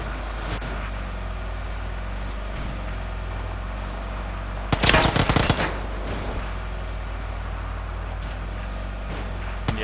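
Enemy gunfire in PUBG erupts as a dense automatic burst lasting about a second, loud against a steady vehicle engine drone, with a few faint scattered shots before and after.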